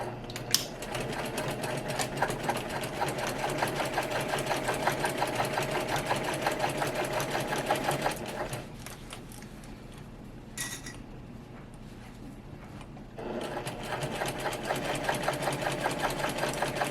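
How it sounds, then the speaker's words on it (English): A sewing machine runs close up, stitching down the edges of a quilted shoulder bag with a rapid, even mechanical chatter that pauses for a few seconds midway and then resumes. "we are going to sew down these edges at our regular seam allowance."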